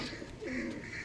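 A single pigeon gives a soft, low coo, near but quiet, a short warbling burst rising in the middle and fading out within about a second.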